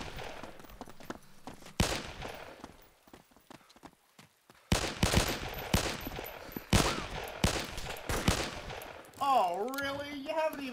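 Gunfire in ARMA 2 on the Takistan Wasteland map, a series of sharp, loud shots and short bursts separated by pauses, with a voice speaking near the end.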